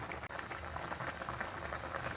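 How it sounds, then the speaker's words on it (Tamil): Kuzhambu curry bubbling in a cooking pot, a steady soft crackling and popping simmer that runs evenly throughout at moderate level. "இப்போ நம்மளோட குழம்பு வந்து நல்லா தழைச்சி வருது."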